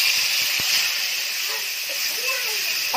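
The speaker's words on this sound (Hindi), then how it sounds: "जीरे को तड़कने देंगे" Cumin seeds sizzle in hot desi ghee in a kadhai, a steady, loud hiss filling the whole stretch without distinct pops.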